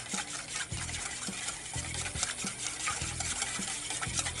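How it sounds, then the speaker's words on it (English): Grapeseed oil and red wine marinade being whisked in a bowl, a steady repeated stirring and clinking rhythm with short strokes, close and fairly loud, no talking. "whisk all that together."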